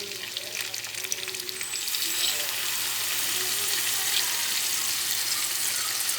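Soy sauce pours into a sizzling pan of chicken adobo with tofu in cola sauce, and the hissing frying swells and holds steady and loud at close range.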